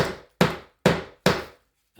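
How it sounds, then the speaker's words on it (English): Four sharp metallic strikes from a ball-peen hammer on a saucepan lid rivet set over a socket, each a loud, close crack with a short ringing decay, spaced evenly with brief silences between. "we are going to use the ball point part of the hammer to hit"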